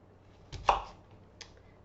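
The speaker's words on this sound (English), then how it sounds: "I'm just going to cut these apples up old school, cut them in quarters" A kitchen knife chops through apples on a cutting board, quartering them: a couple of sharp close thunks in quick succession, then one lighter tap after a pause.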